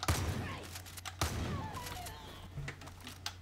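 Sniper rifle fire in the first-person shooter Far Cry New Dawn, with two sharp shots about a second apart followed by a lingering game soundscape and faint distant pops.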